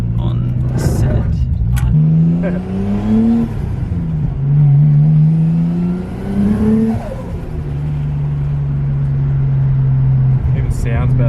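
Nissan Skyline engine with boost revving hard close up, the pitch climbing in repeated surges with a rumbling exhaust between pulls and a steady high-rpm hold near the end, voices over it.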